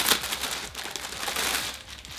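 Packaging around a red t-shirt printed with a small Pikachu crinkles and crackles as it is unwrapped, a steady close rustle of plastic with a sharp burst at the start and no voices.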